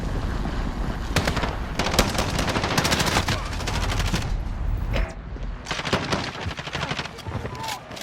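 Sustained machine gun fire in a military video game, loud rapid bursts rattling nearly nonstop with dense overlapping shots, briefly dropping off before resuming.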